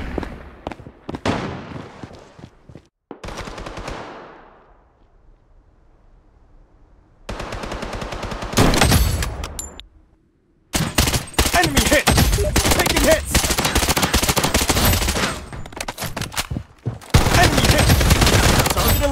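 Gunfire in the video game Blood Strike: bursts of loud, close automatic fire and scattered shots that break off into a quiet stretch, then return as dense, sustained shooting.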